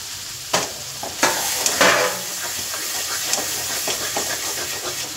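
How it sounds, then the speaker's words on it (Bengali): A spoon stirs and scrapes spice masala with diced green chillies in a pan for a dhaba-style egg tadka, giving a steady sizzle and hiss broken by a few sharp clanks against the pan. "তো মশলা খুব ভালো করে কষানো গেছে, এই সময় দেবো এবার এই কেটে রাখা ডুমো ডুমো করে কাঁচা লঙ্কাগুলো সব দিয়ে দেবো"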